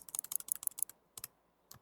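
Quick bursts of typing on a computer keyboard, close and crisp, a rapid run of keystrokes followed by a few isolated taps.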